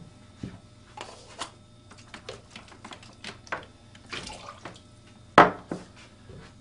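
Water rinses the sensors of a Eureka Manta2 multiprobe during calibration, heard as scattered close drips, splashes and small clicks, with one sharper splash near the end and no talk.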